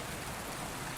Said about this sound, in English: The gentle hum of rain lingered softly on the stones